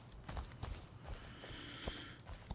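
Hooves of a horse clopping in the survival video game Rust, a faint, soft, uneven patter of steps under a low background hum.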